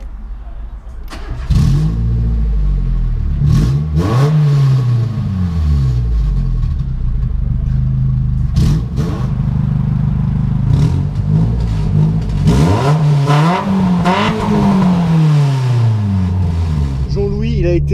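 A small Renault K4J four-cylinder car engine revs repeatedly, rising and falling in pitch close by, with a few sharp rev bursts and a steady idle rumble between.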